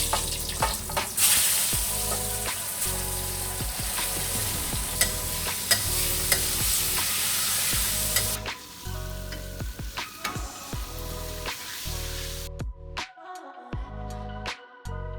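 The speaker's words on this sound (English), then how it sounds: "When double frying, oil temperature has to be slightly higher than before. The oil will bubble way more vigorously" Oil bubbles and sizzles vigorously as pork double-fries for sweet and sour pork, a steady crackling hiss with occasional stirring clinks, loud and close, with no talking.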